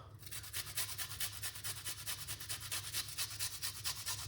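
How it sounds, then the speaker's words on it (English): Purple onion rubbed against a hand grater in a home kitchen, a steady series of quick rhythmic scraping strokes, close and fairly quiet over a low hum. "grate this purple onion like this."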